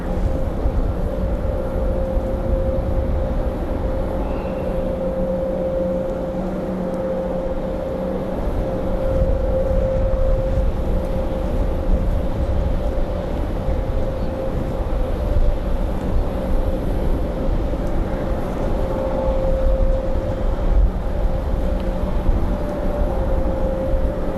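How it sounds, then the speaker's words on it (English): A steady, distant roar of an American Airlines A321 departing at Raleigh-Durham airport after a storm, a broad unbroken drone with a faint tonal hum that holds level throughout. "Got an American A321 departing from the other side over there."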